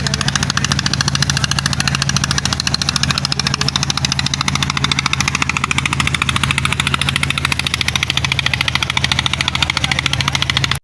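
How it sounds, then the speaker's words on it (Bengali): Engine of a boat approaching on the Padma river, a loud, steady rapid chugging pulse that holds unchanged for about ten seconds, with no voices over it. "ওই যে একটা নৌকা আসতেছে,"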